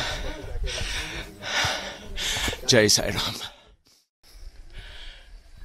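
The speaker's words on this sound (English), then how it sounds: "Sorry for all that heavy breathing and puffing and panting." Heavy, rhythmic breathing and puffing from a hiker climbing uphill on a Himalayan trek to Tungnath, close and loud, with a few spoken words partway through before the panting resumes more faintly.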